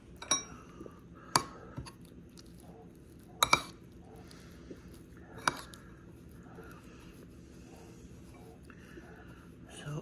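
Cheeses and egg for baked ziti being mixed in a bowl: soft scraping and squishing with a few sharp clinks of a utensil against the bowl, quiet and close.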